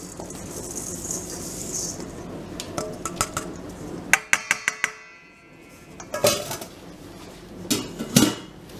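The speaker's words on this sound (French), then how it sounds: "Voilà, et on va verser sur nos blancs." Icing sugar and ground almonds tipped from a bowl onto egg whites while making macarons, heard as a run of sharp clinks and rattles of bowl and utensil. Dry pouring rustle sits between the impacts, close and moderately loud.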